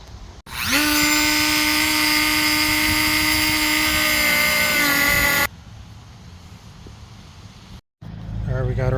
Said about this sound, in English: Getting ready to cut the bumper.